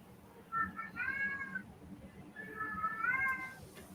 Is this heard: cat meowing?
yes